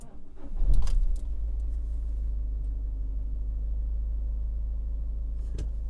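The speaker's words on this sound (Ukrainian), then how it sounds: "Запуск на холодну, сьогодні його ніхто не трогав." A diesel van engine cranks on a cold start and catches with a brief burst, then settles into a steady low diesel idle rumble, close and continuous.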